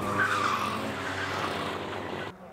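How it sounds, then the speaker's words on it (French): Race cars on a circuit reach the end of a straight while one overtakes the other, a loud close engine roar with tire squeal that cuts off abruptly. "c'est une question de secondes pour que Jules Collin se fasse doubler par Quentin Morlaix"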